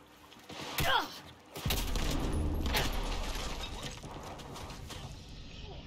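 Electrified SMG fire from Cyberpunk 2077 erupts as a dense, sustained crackling burst after a few sharp mechanical clicks, loud and close, holding steady for several seconds before easing off.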